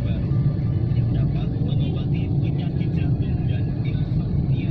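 Jammed street traffic in front of Surakarta city hall during Chinese New Year celebrations, a steady dense rumble of engines and vehicles with scattered horn-like tones, loud and continuous under a voice talking.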